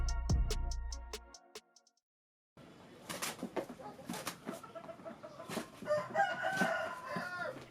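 A fighting rooster crows loudly up close, then after a short silence other birds cluck and chatter in a busy, noisy yard in Bangkok's Khlong Toei slum.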